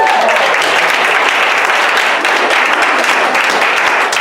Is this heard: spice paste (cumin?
no